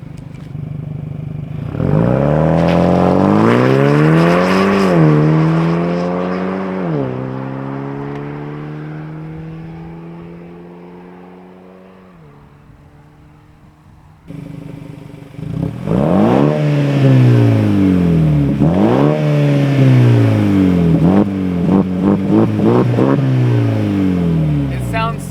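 A Ford Maverick with a Thermal R&D 3-inch exhaust launches and revs hard, engine pitch climbing through gear shifts, then fades before another loud, close acceleration run.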